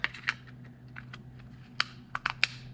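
Plastic HVAC blend door motor cover on a 2007 Honda Pilot being snapped back into place, a series of sharp, close, dry clicks at irregular intervals, the last few bunched together, over a faint low hum.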